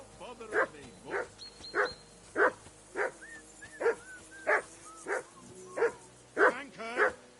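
A dog in Kingdom Come Deliverance 2 barks repeatedly, about ten loud close woofs at a regular pace of roughly one per second, some with a whiny edge.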